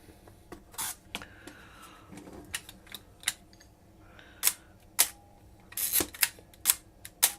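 Nikon FE film camera with a steel metal shutter, handled close up: a series of sharp mechanical clicks and snaps, some louder than others, spaced irregularly over faint background rustle, with no talking.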